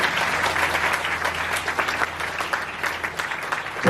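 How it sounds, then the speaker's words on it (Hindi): A congregation at a Hindi youth seminar in Midland claps together in worship, dense steady applause filling the whole stretch at moderate loudness, swelling slightly at the end. "ताली बजाकर प्रभु को मना दो।"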